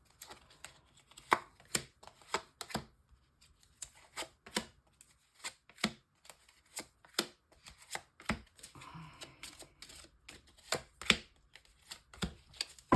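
Tarot cards shuffled by hand, a run of crisp riffling and slapping bursts in an uneven rhythm, close and fairly quiet, with no talking.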